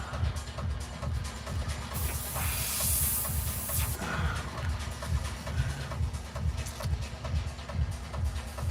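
An airbrush sprays paint onto a galaxy-style fishing lure in a brief, steady hiss lasting about two seconds, set against a constant low hum and faint shuffling.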